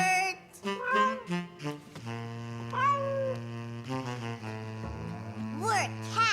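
Children in a cartoon imitate cats with playful, sing-song meows, several voiced calls over a few seconds alongside background music and a short bird-like rising chirp near the end.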